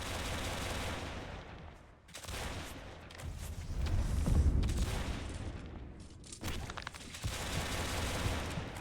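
Heavy gunfire from guns in the Roblox game Arcane Odyssey, dense overlapping bursts of shots and booms that swell to a loud peak midway, then continue steadily after a brief dip.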